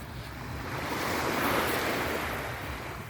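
Sea waves at high tide wash steadily onto the shore in Antique, a broad continuous surf roar with light wind noise, close and fairly loud, with no voices.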